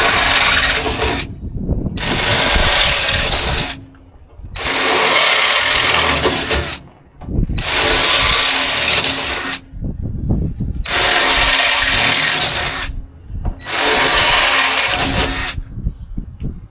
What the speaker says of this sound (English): I got to drill out all the holes.